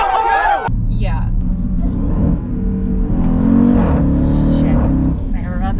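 A 700 hp Jeep Trackhawk engine accelerating, a deep rising roar that builds and holds loud inside the cabin, with voices talking over it near the start.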